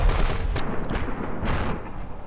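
Rapid gunfire from computer-controlled soldiers in the battle game Ravenfield, sustained bursts of overlapping shots at a steady loud level throughout, with no talking.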